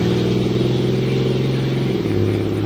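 A car drives past on a busy road, a loud steady engine drone with a rhythmic low hum whose pitch shifts down as it goes by.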